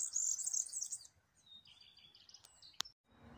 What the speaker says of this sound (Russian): А птички, где-то тут вот у нас на сливе заливаются.